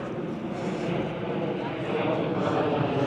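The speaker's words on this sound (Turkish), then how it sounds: "Austrian Airlines geliyor." An Austrian Airlines airliner passes overhead on its approach to land in Vienna, a steady broadband jet roar that slowly swells louder while a person talks outdoors.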